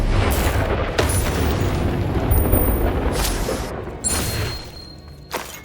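Confringo spell explosions in Hogwarts Legacy: loud, booming blasts with sharp cracks, several bursts across the span and a final lighter hit near the end, over a rumbling background.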